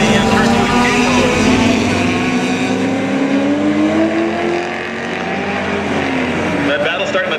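Race car engines roar continuously on a closed-wheel circuit at Mission Raceway, with an MGB among the field, a loud, steady drone with shifting engine pitch and cars passing, voices faintly underneath.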